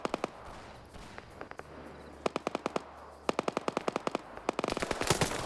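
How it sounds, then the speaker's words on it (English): Bursts of rapid gunfire from a video game, short rattling volleys of shots separated by brief gaps, over a faint background hiss, during a PvP match. "Op 4 heard those gunshots."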